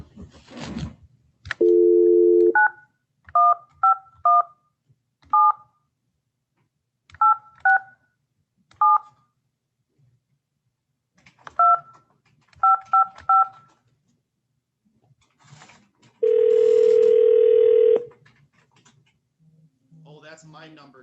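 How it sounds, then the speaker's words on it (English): A telephone number is keyed in as a series of short DTMF beeps in uneven clusters, bracketed by longer steady phone tones near the start and end. "I'm going to try to dial your phone number that's listed on some of the paperwork here."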